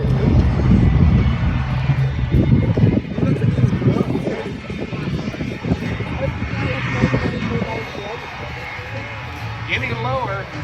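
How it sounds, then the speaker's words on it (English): At an air show, a jet dragster powered by a Westinghouse J35 jet engine gives off a loud, continuous roar that swells and fades, with an announcer talking over it. "This vehicle, powered by a Westinghouse J35 jet engine, the same engine used on Phoenix T2 Buckeye jet training"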